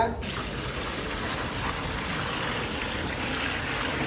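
Water, about one and a half tins' worth, pours steadily into a pot of spiced masala for a rice dish, a loud continuous rushing gush with no talk over it.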